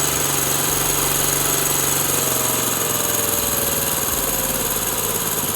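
A Honda CD 70 motorcycle engine idles steadily nearby, a fast, even single-cylinder putter that holds constant the whole time.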